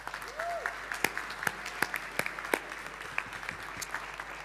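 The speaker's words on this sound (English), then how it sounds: "Let's give both of them a round of applause." Audience applause at a forum on displacement, a steady patter of many hands clapping with sharp individual claps standing out, moderately loud and sustained throughout.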